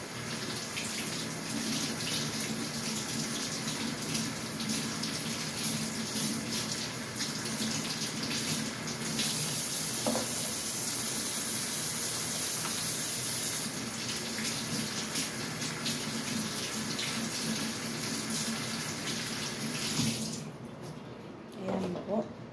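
Small fresh vegetables being rinsed under a running kitchen tap, a steady close gush of water with splashing and handling noises that continues for most of the stretch before the flow stops near the end.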